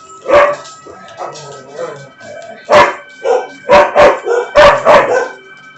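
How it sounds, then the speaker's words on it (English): Several dogs bark loudly and close by in a burst of sharp, repeated barks, a few quieter yips between, with a rapid cluster toward the end. "Never know when the dogs are going to start barking."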